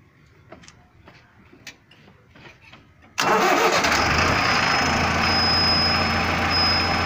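Quiet clicks and shuffling, then a Mahindra Novo 605 DI tractor's diesel engine fires up abruptly and settles into a loud, steady running roar close by.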